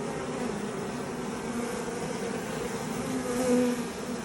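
A dense, steady hum of many honey bees buzzing close by inside an open hive, swelling slightly louder near the end.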